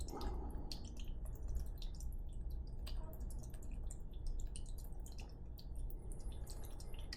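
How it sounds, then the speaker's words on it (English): Coolant trickles and drips quietly into the radiator of a Kawasaki KLR650 motorcycle during a thermostat install in a workshop, a faint, continuous liquid patter with scattered drips. "Put all the coolant you took out back in it."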